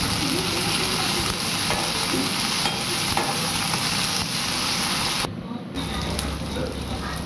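Tomatoes drop into hot oil for a tarka and fry with a loud, steady sizzle, close up, with light stirring scrapes; someone talks over the cooking, and the hiss briefly dips near the end.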